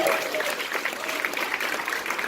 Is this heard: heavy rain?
no